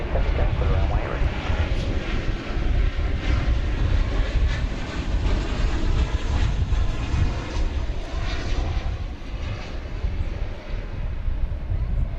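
A jet airplane roars steadily on the runway at DFW Airport, a loud, dense, unbroken engine rumble and hiss that holds throughout.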